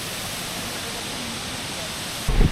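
Garambi Waterfall running with clear water over slippery rocks: a steady, broad rushing hiss that fills the scene evenly, with a brief low thump near the end.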